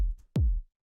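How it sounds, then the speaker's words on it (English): A dry techno kick drum sample with no effects, struck twice alone: each hit is a loud, deep thump with a short pitch-dropping tail, the two spaced about half a second apart. "just kick sample with no effects on it"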